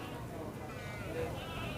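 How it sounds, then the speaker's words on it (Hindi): Goats bleating at a livestock market, pregnant nannies and does with kids penned together; a brief nearby bleat rises over a murmur of crowd noise and talking. "मेरे बकरियों का एरिया है, सिर्फ हामला बकरियां और बच्चों वाली बकरियां हैं।"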